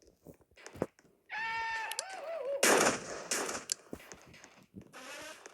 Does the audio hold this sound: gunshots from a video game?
yes